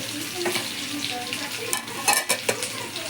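Potatoes frying in oil in a pan, a continuous crackling sizzle with a few sharp clinks of a utensil against the pan near the end, close and moderately loud.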